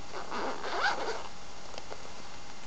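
One of the two zips on a new bag is pulled open in a single quick, close rasping stroke, followed by faint handling noise.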